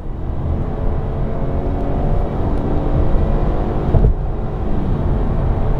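BMW 420 G22 coupe accelerating hard from 80 to 120 km/h, revving toward 6600 rpm, a steady loud cabin drone of engine and road noise building slightly, no voices.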